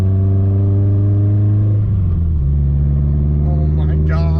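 Subaru STi engine hums steadily under load, its pitch dropping and settling as a gear shift goes through, with road rumble throughout and a voice speaking briefly near the end.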